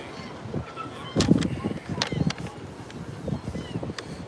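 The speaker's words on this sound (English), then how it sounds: "I hear the seagulls in the back." Seagulls call outdoors near a Rhode Island harbor, several short honking cries scattered over a few seconds against wind noise and distant outdoor ambience, with a person talking nearby.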